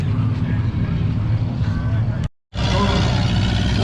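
A small Ferguson tractor pulls a sled at a spring tractor pull, a loud continuous engine roar with a brief dropout, then the roar carries on strongly.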